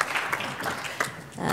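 Applause from a conference audience at a policy forum on Egypt and Arab North Africa, a short steady patter of clapping at moderate level that swells again near the end.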